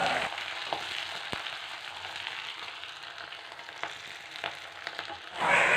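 Chopped ginger, garlic and green chillies sizzle steadily in a hot pan of oil for pineapple pickle, a loud continuous frying hiss with occasional stirring scrapes, ending in a brief louder burst.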